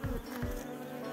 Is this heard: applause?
no